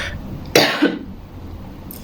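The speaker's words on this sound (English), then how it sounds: "I'm trying not to cough, but I feel it's coming." A single sharp cough bursts out close to the microphone, followed by a softer throat-clearing catch, then quiet room tone with an air conditioner humming in a bedroom at night.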